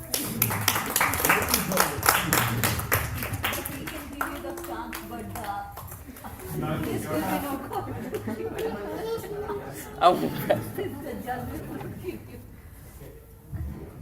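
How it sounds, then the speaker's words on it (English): An audience at a Gita talk claps for a few seconds, then the clapping gives way to chatter, light laughter and a few taps while people talk in the room. "Everyone clap for this, please."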